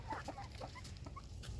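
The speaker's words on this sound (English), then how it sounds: "So we have what we think are 11 hens and 1 rooster now." Backyard chickens, a flock of hens with one rooster, give soft scattered clucks in a brief, faint burst over a low rumbling background.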